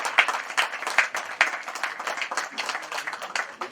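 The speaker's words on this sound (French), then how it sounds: "Je vous prie d'applaudir ce grand don." An audience applauds a donation at a high school ceremony in Cameroon, with steady dense clapping, moderately loud and close, continuing without a break.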